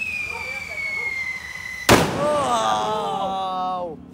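Firecrackers and fireworks go off on New Year's Eve: one sharp, loud blast bursts out near the midpoint, followed by a sustained crackle and whistling tones, with excited voices shouting throughout.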